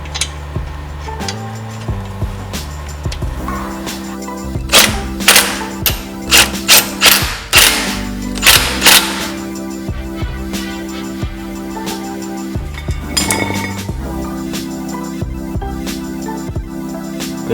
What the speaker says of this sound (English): Time to put on the lug nuts.